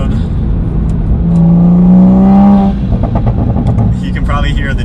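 Toyota Supra with a Magnaflow active exhaust, a deep exhaust note swelling into a rev for about a second and a half and settling back to a low rumble, close, with someone talking over it.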